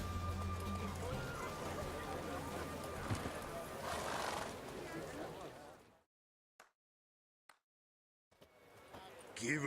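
Geralt's horse Roach in The Witcher 3 game, hooves clopping and a whinny over a dense game soundscape, then near silence with a couple of faint clicks before the noise returns.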